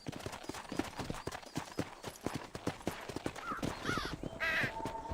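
Horse hooves clip-clop in a steady trotting rhythm in Red Dead Redemption, with crows cawing over the top toward the end.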